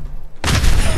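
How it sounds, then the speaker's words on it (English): A yellow truck explodes in the video game Fallout 4: near-silence, then a sudden loud, sustained blast roaring across the whole range for the rest of the moment. "we're gonna blow this yellow truck up"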